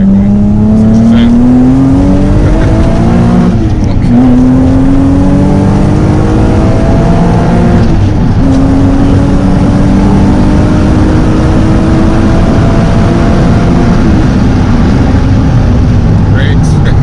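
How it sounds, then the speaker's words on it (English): Alfa Romeo 145 with a 3.0 V6 engine revving hard nearby, its loud raspy note rising and falling through several rev sweeps, with faint voices in the background. "you don't get these kind of notes from an engine"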